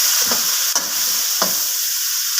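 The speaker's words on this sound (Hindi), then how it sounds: "अब मैं इसमें साथ डाल दूंगी ये टमाटर और हरी मिर्चें।" Tomatoes and green chillies go into a pan of frying ginger and garlic, producing a steady loud sizzle with a few soft stirring scrapes over it.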